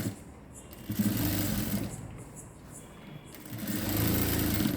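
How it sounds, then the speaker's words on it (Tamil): A sewing machine stitches around a ready-made garment's neckline in two bursts of rapid, steady mechanical whirring, with a short quieter pause between them. "அந்த ரவுண்ட் ஷேப்பே வர்ற மாதிரி வச்சு நீங்கள் தைக்கணும்"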